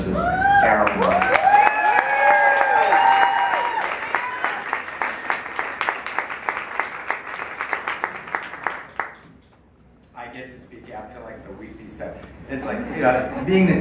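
An audience applauds the chair of the StoryCorps board with dense, sustained clapping that tapers into scattered claps, followed by a pause and then a voice speaking.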